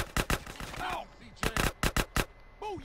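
Loud bursts of gunfire in GTA San Andreas, several sharp close shots in short clusters separated by gaps, with people talking between them.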